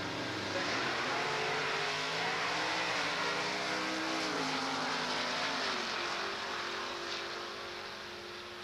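A drag racing Camaro in a Top Street class makes a loud, sustained pass at the strip, its engine roaring steadily with rising pitch before easing off slightly near the end.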